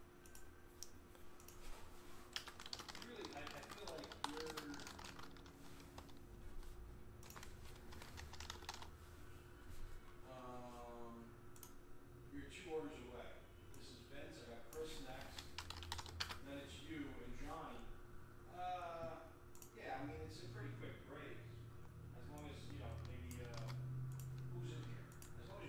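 Names are typed on a computer keyboard in quick, irregular bursts of light key clicks, close and quiet, while a person talks over much of it.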